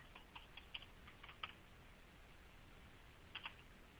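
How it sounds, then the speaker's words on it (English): Typing on a computer keyboard, a quiet scatter of key clicks in short irregular bursts, with a few sharper taps, over steady room hiss and no talking. "And hopefully my typing skills are on point today."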